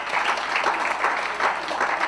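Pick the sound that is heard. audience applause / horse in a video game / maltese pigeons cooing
audience applause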